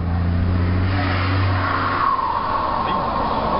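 A Ford F-250 pickup with a turbo, driven hard through a curve, gives a loud sustained roar with a rising high tire squeal and whine, heard close and continuous throughout.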